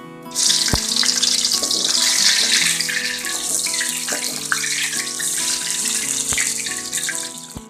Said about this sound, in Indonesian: Ini minyak gorengnya sudah mendidih. Kita tuangkan bawangnya.